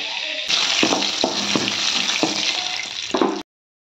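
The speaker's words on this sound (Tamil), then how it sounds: "நெய்யை ஊற்றியிருக்க இதில் வந்து முந்திரி திராட்சை இதையும் போட்டு வறுத்து எடுத்துட வேண்டியதுதான்" Cashews and raisins fry in ghee with a steady close sizzle, broken by a few soft clinks of a spoon stirring the pan before the sound cuts off.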